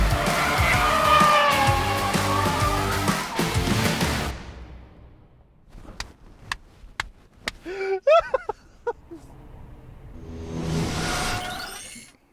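A car drifting around a race track: a loud engine roar opens, then a quieter stretch with sharp clicks and a brief wavering tyre squeal, before the rushing noise builds again.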